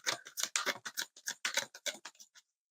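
Tarot cards are shuffled close by in quick, crisp bursts of riffling and slapping, an irregular run of papery snaps that stops abruptly.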